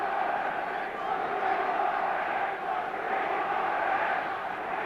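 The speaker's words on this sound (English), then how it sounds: "And it's "We want a ref" is the chant from the crowd." A large football stadium crowd chanting in unison in protest at the referee, a dense, steady roar of many voices heard from a distance, continuous throughout.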